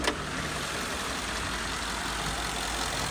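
A 2012 Ford F-150 FX4 Lariat's 5.0-liter V8 idles smoothly and steadily with the hood open, a low even rumble under broadband hiss with no talking.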